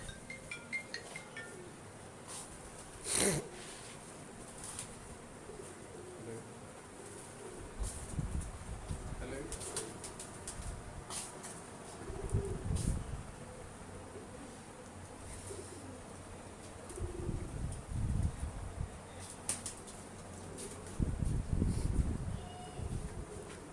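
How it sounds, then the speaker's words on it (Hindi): Breeder pigeons cooing in a loft, low soft coos recurring at intervals under background chatter and buzzing insects, with occasional louder bumps nearby. "ये दोस्तों स्पेशली मेरे कहने पे अली भाई ने ये कबूतर दिखा रहे हैं"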